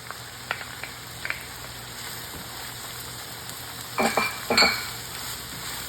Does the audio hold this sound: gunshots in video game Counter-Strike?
no